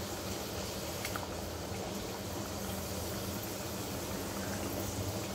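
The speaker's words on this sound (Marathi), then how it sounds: "मिडियम गॅसवर मस्तपैकी गोल्डन फ्राय करून घ्यायची" Matar kachori deep-frying in hot oil over a medium gas flame gives off a steady, dense sizzle and bubbling hiss that holds constant throughout, with no talk.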